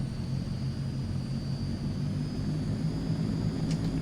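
Transall C-160 turboprop in Microsoft Flight Simulator taxiing, a steady, loud droning engine hum with dense low rumble and a thin high whine running throughout, no voices.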